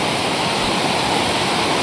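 Ranteke waterfall rushes in a dense, constant roar of falling water, loud and close, with no voices over it.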